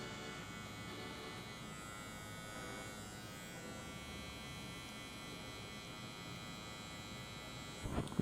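An electric hair clipper cuts a fade into afro-textured hair, a faint steady buzz held close throughout, ending in a short rustle.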